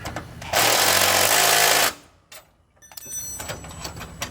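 A power tool tightening the drive pulley on a Craftsman T-210 riding lawn mower, heard as one loud, close, buzzing burst of about a second and a half, followed by quieter clinks and rattles of handling.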